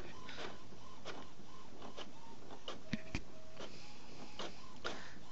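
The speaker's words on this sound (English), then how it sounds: "Sounds like it's printing." HP printer running a test page: a steady mechanical whir with repeated short feed clicks and a couple of sharper clunks, fairly quiet and with no talking.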